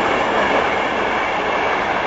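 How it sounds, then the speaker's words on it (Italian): A train rushes past close by with a steady, loud roar of rail and wheel noise that fills the whole moment without a break. "Il treno!"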